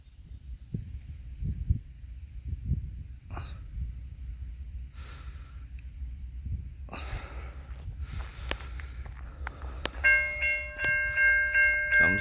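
A train passing near a flooded area in rural Missouri, a low rumble of rail cars building toward the end, where a horn sounds and scattered breaths and bumps come near the recorder.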